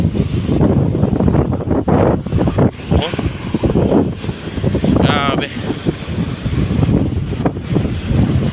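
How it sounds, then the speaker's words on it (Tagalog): Strong sea waves crash and churn at Guimbal under a heavy, buffeting wind in bad weather, the gusts roaring loudly across the microphone while someone speaks and exclaims over the noise. "Tingnan mo naman yung alon guys"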